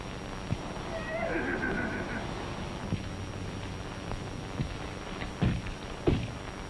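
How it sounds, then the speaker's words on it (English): A horse in a 1933 Western film gives a loud, falling whinny, followed by scattered thuds and hoof knocks over a hissy old soundtrack. "That's that horse of mine, Tarzan."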